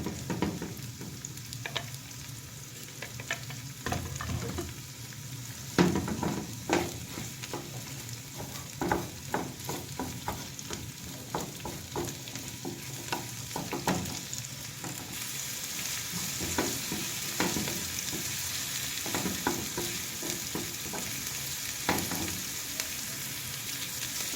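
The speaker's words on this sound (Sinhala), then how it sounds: "මම ආයෙ පොඩ්ඩක් කලවම් කරනවා. කලවම් කරලා තව ටිකක් බෙදෙන්න දෙනවා." Spicy mussels being stir-fried in hot oil, Sri Lankan style, with a steady close sizzle broken by repeated clanking stirs of a utensil against the pan, continuing without pause.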